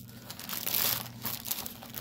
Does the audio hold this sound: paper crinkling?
yes